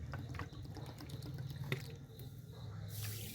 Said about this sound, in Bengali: ওই বাটিরই আমি হাফ বাটি দেব জল